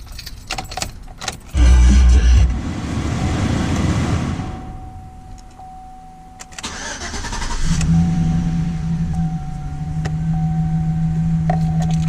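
A GMC Sierra 1500 pickup truck with a newly replaced battery, keys jangling before the engine cranks and catches at close range, then a steady idle hum continuing to the end.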